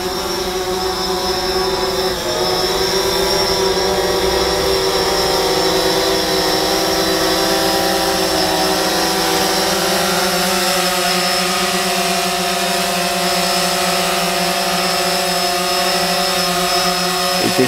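A DJI Phantom 4 drone hovering overhead gives off a steady, loud electric whine with sustained tonal hum layers, constant in level across the whole stretch with a slight pitch shift near the start.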